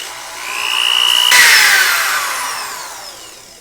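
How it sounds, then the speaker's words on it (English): A power sander grinds a corner off a herringbone wall tile beside a whirlpool bath. A rising whine swells to a harsh, close grinding burst, then tapers away, alone without speech. "Let me get the sander, and I'll sand that little corner off, and then I'll tack them up there."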